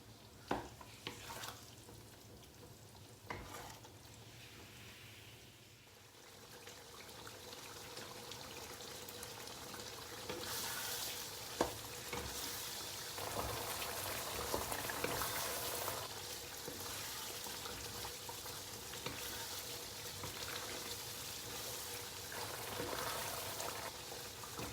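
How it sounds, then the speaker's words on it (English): Beef rendang simmering until the meat is tender and the gravy reduces, a quiet bubbling sizzle with occasional stirring clinks, soft and steady over a long stretch. "I will cook until the meat is tender and the gravy is reduced."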